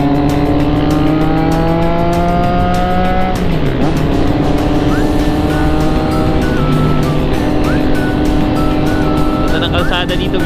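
Motorcycle engines drone steadily on a group ride along a road, with sustained tones that rise and fall as riders shift gears, recorded close and loud, while someone talks over the engine noise.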